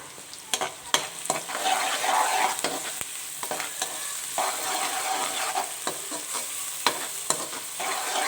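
Onions frying in a pan with garlic, ginger and green chili paste added, crackling in a steady sizzle close by, broken by repeated scraping stirs of a spoon against the pan.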